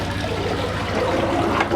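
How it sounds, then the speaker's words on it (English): Toilet flushed by pouring a bucket of water into the bowl: a steady, close rush of gushing, swirling water that builds slightly toward the end, with no voices. "But if you just get a bucket of water, watch this. Let's see if it goes down."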